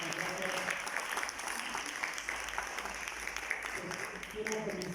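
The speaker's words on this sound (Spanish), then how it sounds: "Le damos un fuerte aplauso al autor." Faint audience applause for an author at a book presentation, a steady wash of clapping heard from a distance with voices murmuring underneath.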